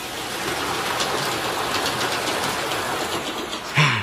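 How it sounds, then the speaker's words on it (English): An animated train in a cartoon scene rolls past with a steady, fairly loud rumble and clatter that holds throughout, ending in a brief bump, with no talking over it. "The train. Now that was the way to travel."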